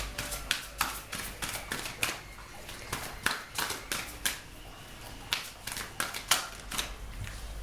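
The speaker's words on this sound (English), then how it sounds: "I'm going to pull 2 more cards" Tarot cards are handled and pulled from a deck in a quiet room, giving a steady run of crisp, close papery snaps and taps, some in quick clusters.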